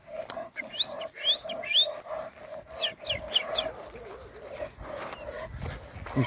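Dogs bark and whine in short bursts, moderately near, with some high chirping over quiet background.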